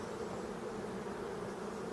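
Dark-coloured bees at an opened, previously abandoned beehive hum in a steady, dense, continuous buzz, close and fairly soft, with no talking.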